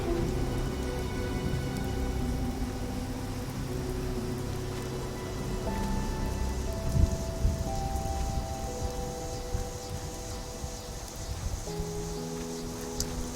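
Steady rainfall in the video game Fallout 76, a dense patter of drops on surfaces with scattered tonal blips from the game, continuous at moderate loudness throughout.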